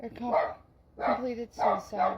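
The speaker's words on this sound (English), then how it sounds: "Sorry for the noise of the dogs" Dogs barking in short bursts in the background while a person keeps talking over them.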